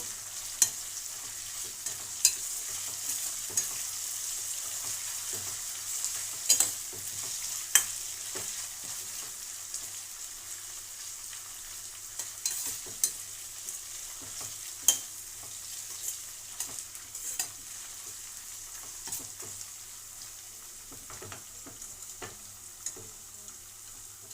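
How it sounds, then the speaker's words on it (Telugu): Ginger garlic paste frying in a pan, a faint steady high sizzle with scattered sharp ticks and spoon taps across a long stretch, close but quiet, no talk. "అల్లం వెల్లుల్లి పేస్ట్ కొంచెం పచ్చివాసన పోయే వరకు వేపుదాం"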